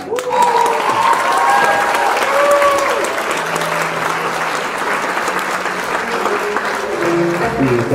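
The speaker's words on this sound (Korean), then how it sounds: "큰 박수로 축하해 주시기 바랍니다." Guests at a traditional Korean wedding ceremony for a multicultural family give a loud, sustained round of applause, dense clapping throughout with some voices mixed in.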